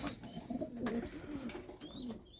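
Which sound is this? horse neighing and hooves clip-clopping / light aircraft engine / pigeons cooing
pigeons cooing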